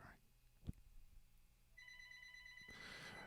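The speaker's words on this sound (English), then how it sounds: "the phone's ringing" A telephone rings with a steady electronic tone in a room, fairly faint and continuous through the second half, with a brief knock early on and people talking quietly around it.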